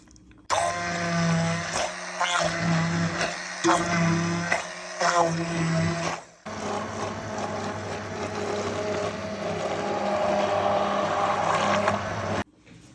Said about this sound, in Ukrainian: Беру блендер і збиваю все.